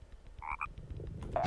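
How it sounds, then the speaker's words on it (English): A baby frog croaks in Frogger (1997), giving two short close croaks in quick succession over low game background noise, followed by a brighter burst of game sound. "I love hearing the baby frog croak when I'm right in front of it."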